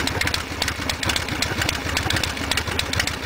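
Harley-Davidson Sportster motorcycle engine idling steadily after an oil change, a close, even rumble with a fast regular firing pulse and no talk over it.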